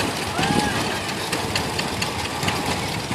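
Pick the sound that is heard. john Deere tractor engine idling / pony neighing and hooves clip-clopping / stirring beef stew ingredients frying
john Deere tractor engine idling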